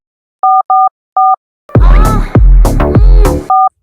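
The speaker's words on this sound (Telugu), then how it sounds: "ఈ దోలగాడికి ఫోన్ చేయాలి." Three loud, crisp touch-tone beeps sound as a phone number is dialed, then a stretch of louder sound with a strong low component cuts in before a final matching beep. This happens in a Telugu comedy episode.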